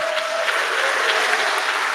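Steady applause from a conference audience, dense broadband clapping sustained at an even level throughout with no talk over it.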